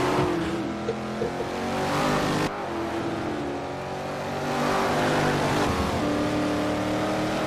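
Several historic Trans Am race cars circle a sim racing track at Sedona, engines droning loud and close with harmonic whine, shifting pitch as they accelerate and lift, one abrupt cut midway, no talking.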